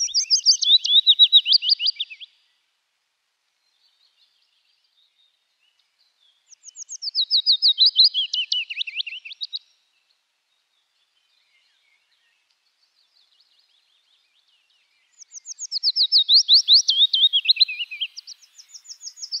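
A wood warbler sings three accelerating, shivering trill phrases, each a couple of seconds long and separated by long silent gaps, clear and loud with no other sound.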